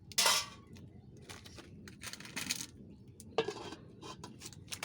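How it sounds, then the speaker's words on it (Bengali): A lid is set onto a cooking pot of beef kala bhuna, giving a few sharp metallic clanks and rattles with quieter clinks between them, close and alone with no talking. "আমি এখন ঢাকনা দিয়ে একটু ডেকে দেব।"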